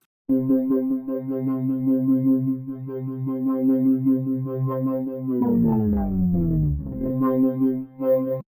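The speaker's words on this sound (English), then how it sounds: "So for my pan module, I can select a sine wave shape to make the pan move left and right over time." A synth tone with sine-wave pan modulation sweeps left and right as a steady buzzy sustained note, with a swooping downward pitch glide near the end before the note resumes.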